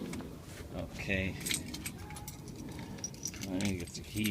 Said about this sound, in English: let me get the keys here.